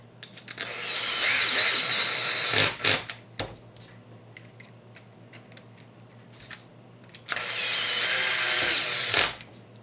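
A power tool driving two long screws into the rear end of a Team Associated RC8B4 RC car: two loud bursts of drill whine several seconds apart, separated by quieter clicks and handling noises.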